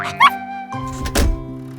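A cartoon puppy gives a short, high yip early on, then a rougher bark-like burst later, over steady background music in a children's animation about helper cars and an old-fashioned car.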